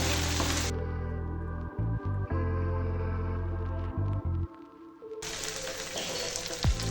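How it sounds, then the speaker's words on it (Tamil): Pea kurma masala sautéing in oil in a pan, a steady sizzle running throughout under a low, even hum, with a few brief dips and a small knock near the end. "இந்த மாதிரி எல்லாமே நல்லா எண்ணெயிலே வதக்கி கொடுத்துக்கோங்க"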